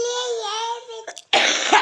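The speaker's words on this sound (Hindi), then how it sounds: "जितना हमको खांसी होता है ना" A person suffering from a severe illness coughs with a voiced, strained sound, followed after a short pause by a harsh burst of coughing, close and fairly loud.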